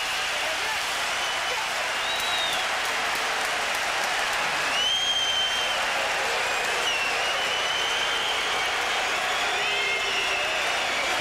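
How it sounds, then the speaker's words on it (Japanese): A large crowd at a light heavyweight world title unification boxing match cheers and applauds continuously and loudly, with whistles rising over the roar as a commentator talks over it. "大歓声。"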